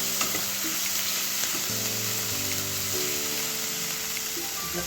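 Onion paste with ginger and garlic fries in hot oil, making a dense, continuous sizzle that stays close and even, with gentle tonal music playing underneath.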